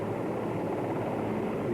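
Recovery helicopter flying over a ship's fantail during the Apollo 17 recovery, a steady broadband rotor and engine roar heard at moderate distance without pause for the whole stretch.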